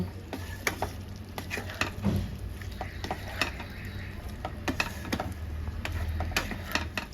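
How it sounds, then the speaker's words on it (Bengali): Soybean chunks stirred into potatoes in a frying pan make a constant sizzle under repeated sharp clicks and scrapes of the spatula against the pan, close and fairly busy with no talk. "এবার আলুর সাথে ভালো করে মিশিয়ে নেব"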